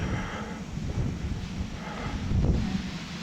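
Wind gusts across rocks high on an open ridge above Edale. A steady, loud roar buffets the microphone and swells slightly near the end, with no voices.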